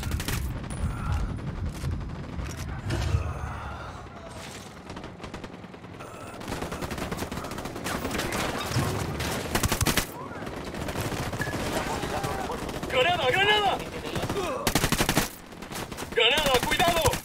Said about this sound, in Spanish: Voy a disparar.